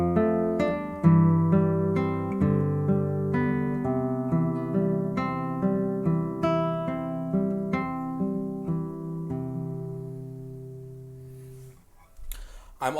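Classical guitar plays Giuliani's Allegretto Op. 50 No. 12, a steady flow of plucked arpeggiated notes with a singing melody on top, gradually softening and fading near the end.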